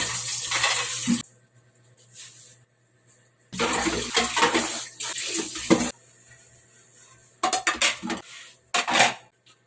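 Tap water runs in loud bursts while bulalo ingredients are washed in a home kitchen before cooking, with dishes and pans clattering between the gushes and quiet pauses.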